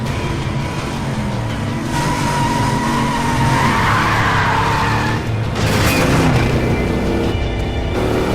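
In an action film scene, a car rams another car with loud, sustained tire skidding and engine roar, a rising screech building in the middle before a heavy impact-like surge, with no talk.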